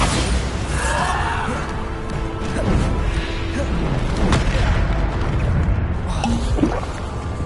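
Bombarda blasting spells explode in the Hogwarts Legacy video game, a dense, loud barrage of booms and crashing impacts layered over continuous battle noise, with several sharp hits rising above the din.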